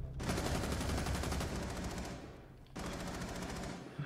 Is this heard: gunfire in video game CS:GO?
yes